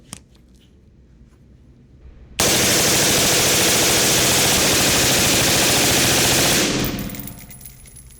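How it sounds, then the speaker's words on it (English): A suppressed Rugged Axial rifle dumps a Force Reset safety magazine in one long, loud, continuous burst of rapid gunfire lasting several seconds, preceded by quiet ambience and fading into ringing echo. "now for the fun part, mag dump a Force Reset safety magazine"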